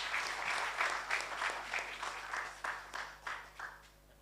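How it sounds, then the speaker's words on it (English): An audience claps together indoors at a live-streamed event, with a quick burst of clapping that swells and then fades in rhythmic waves toward the end. "Let's clap for Prof."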